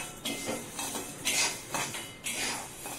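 Urad dal is dry-roasted and stirred in a pan, with repeated scraping and rattling strokes of a metal spoon against the pan in close, moderately loud bursts.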